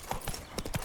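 Horse hooves clip-clopping at a walk in The Witcher 3: Wild Hunt – Blood and Wine, a quick run of close, uneven thuds over soft game ambience, with no talk.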